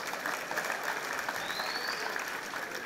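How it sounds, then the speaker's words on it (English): Audience at a live stand-up comedy show claps steadily, a continuous moderately loud round of applause from the crowd with no talking over it. "On a clap if you celebrate success."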